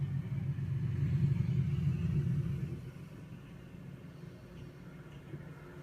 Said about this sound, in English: So there goes the motorcade.